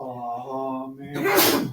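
A single sharp sneeze bursts out right after a short spoken word during a Friday-evening Shabbat service, close and loud.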